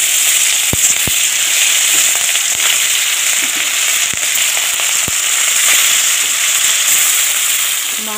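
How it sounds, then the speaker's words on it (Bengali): Hilsa fish fries in a hot wok, a loud, continuous hiss of bubbling oil dotted with sharp pops and crackles throughout. "আমি একে একে মাছগুলো ভেজে নেব।"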